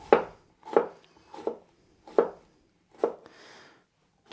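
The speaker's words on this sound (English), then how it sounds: "And then the other halves I'm gonna cut into little cubes, so I'll cut them lengthwise." A knife chops vegetables into little cubes on a board in five crisp, evenly spaced strikes, close and clear in a quiet kitchen with a faint rustle near the end.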